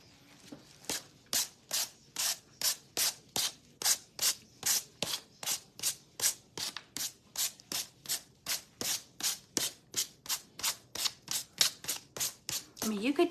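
A craft surface is scuffed before painting with about thirty rapid, evenly spaced rasping strokes, close and distinct, each a short abrasive swipe in a steady back-and-forth rhythm.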